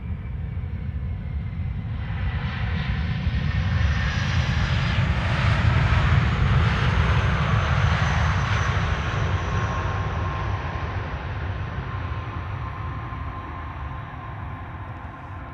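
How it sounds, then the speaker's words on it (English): An airliner lands at Amsterdam Schiphol Airport with idle reverse thrust, a steady loud jet engine roar that builds and then slowly fades with no talk. "Idle reverse landing"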